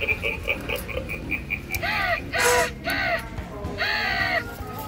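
Halloween animatronic crows at a hardware store display give four harsh, buzzy caws in quick succession, loud and close, after a run of faint rhythmic clicking.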